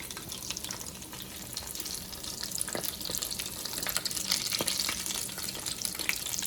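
Nacho tacos fry in hot oil, giving a continuous soft sizzle and crackle with scattered pops, fairly quiet and close, with no talking.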